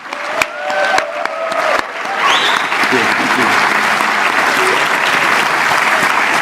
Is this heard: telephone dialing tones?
no